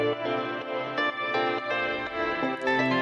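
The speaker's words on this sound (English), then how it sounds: "There's obviously the main synth" A main synth line taken from the original song stem plays alone, dense and harmonically rich, with chords shifting every half second or so at a steady level.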